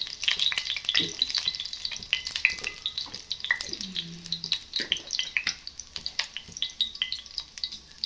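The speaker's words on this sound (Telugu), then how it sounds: "ఆయిల్ వేడైన తర్వాత అందులోకి మనం పోపు కావాల్సినవన్నీ వేసుకోవాలి" Tempering spices crackle and sizzle in hot oil, a close, busy spatter of pops and hisses with occasional stirring scrapes and a brief clink.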